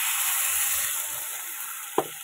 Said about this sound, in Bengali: এই যে জল দিয়ে দিচ্ছি